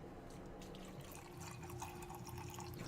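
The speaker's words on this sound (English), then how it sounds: "we're going to pour it right over our frozen strawberries" Crown Royal Regal Apple whisky poured over frozen strawberries, a faint, close trickle and splash of liquid with small drips, steady for a few seconds with no voices.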